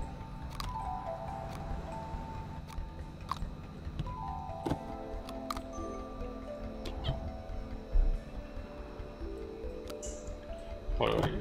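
Cartoonish cat meowing over and over in the puzzle game A Little to the Left, short repeated mews with clicking game sounds and ticks, while someone talks over them.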